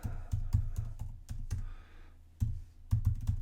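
Rapid keystrokes on a computer keyboard, clicking in short clustered bursts with a brief pause midway, close and fairly quiet with no speech.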